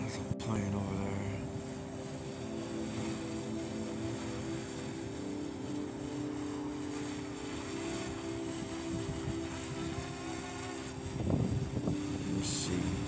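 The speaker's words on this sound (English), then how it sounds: "There's a plane over there." Airplane passing overhead, heard as a steady distant engine drone under strong wind buffeting on the microphone, with some handling noise near the end.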